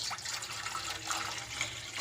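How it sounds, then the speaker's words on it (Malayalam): Water is poured from above into a pan set on a stove, a steady, faint splashing and trickling stream that runs continuously for a couple of seconds with no voices. "ഇനി നമുക്കൊരു പാൻ അടുപ്പിൽ വെച്ച് അതിലേക്ക് നമുക്ക് സ്വല്പം വെള്ളം ഒഴിച്ചു കൊടുക്കാം."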